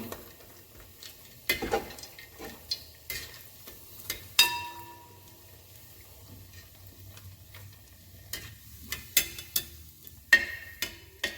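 Pieces of pounded dried beef fry in hot oil, giving soft crackling sizzles with sharper pops and stirring clicks scattered throughout, heard up close with no talking.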